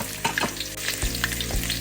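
Garlic and ginger sizzle and fry in hot oil with mustard seeds in a pan for a Kerala chicken curry, a steady close crackle with a couple of soft stirring scrapes.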